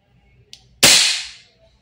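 An Umarex HK416D airsoft gas blowback rifle fires a single shot: a faint click followed by one sharp, loud crack with a short hissing decay, close by and otherwise quiet.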